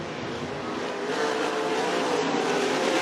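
Race cars lapping at Cottage Grove Speedway in heavy lap traffic, a steady dense engine roar from several cars at once, fairly distant and continuous with no talk.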